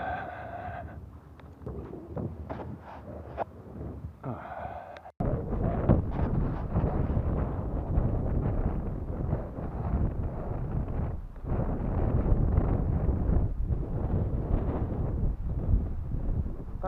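Strong outdoor wind buffeting the microphone, a dense, loud low rumble that swells and gusts continuously, lighter at first and then heavier for the remainder.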